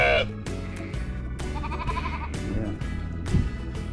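A flock of sheep bleat repeatedly on a goat farm, several overlapping calls close and loud in an uneven rhythm, with faint farm noise beneath.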